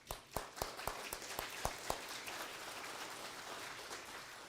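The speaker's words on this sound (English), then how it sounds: "Give them a hand." Applause for the timekeepers at a county sheriff debate. It opens with a few sharp, spaced claps, then the crowd's clapping settles into a soft, steady patter that carries on at a distance.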